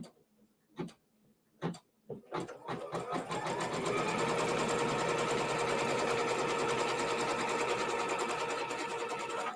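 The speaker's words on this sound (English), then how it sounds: "And now machine step 3 is going to tack that down, tack it together." Home embroidery sewing machine tacking pieces of a celebration cake quilt block together: a few separate clicks and short bursts at the start, then a steady, close, continuous mechanical stitching whir.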